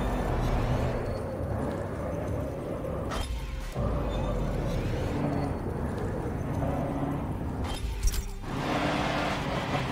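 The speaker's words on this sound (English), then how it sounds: "And this actually sounds like a sports car." Sports car engine racing in the video game Forza Motorsport 7, a continuous loud drone with rising and falling revs, broken by brief sharp impact and crash noises, with game effects layered on top.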